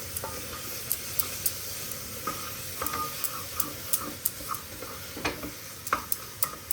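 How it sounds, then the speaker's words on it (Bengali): Spices with red chili, cumin and coriander powder fry with tomato in a pan, making a soft steady sizzle punctuated by regular scraping and tapping stir strokes, close and with no talking. "এবার এটাকে ভালো মতন একটু কষাবো"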